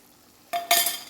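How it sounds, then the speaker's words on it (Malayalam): A spoon stirs a mango pickle mixture in hot oil with roasted spice powder, giving a brief close scrape and clink over a soft sizzle, lasting about half a second. "നന്നായിട്ട് ഇളക്കാം"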